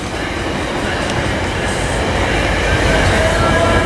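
A Metrolink commuter train passes close at Fullerton station, a loud continuous rumble of wheels and rail noise that holds steady throughout, with a brief faint squeal partway through.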